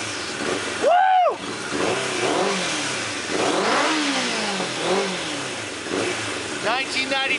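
A 1992 Suzuki Katana motorcycle engine revs up and down several times at close range, its pitch rising and falling in quick sweeps between rumbling idle.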